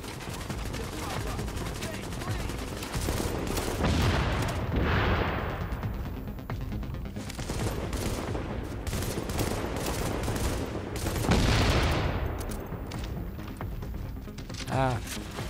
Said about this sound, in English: Explosive bullets.